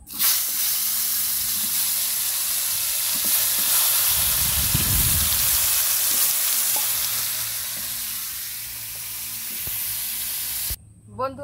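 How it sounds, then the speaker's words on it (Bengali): Spiny gourd coated in turmeric and salt fries in hot oil with a steady, loud sizzle and hiss that briefly swells, then fades near the end with a short clatter. "এবারে আমি কাঁকরোলটা ভেজে নেব।"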